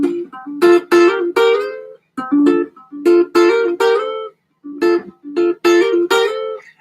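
A guitar plays a song's riff: clear plucked notes in short repeating phrases with brief pauses, close and alone with no voices.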